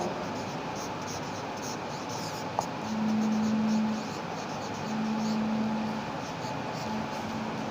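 A pen scratching across paper as a matrimonial advertisement is written out, faint steady scribbling with a brief tap near the middle and a low background hum.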